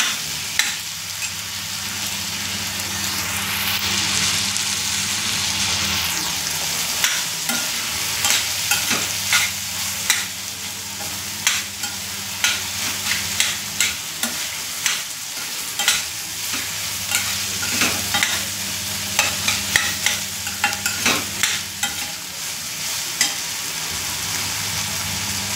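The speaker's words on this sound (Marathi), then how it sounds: "मी लाल करते आता हे सर्व" Cheese masala dosa filling with 5-6 chillies fries and is stirred in a pan until browned: a loud, steady sizzle with frequent scraping spoon strokes that grow busier toward the end.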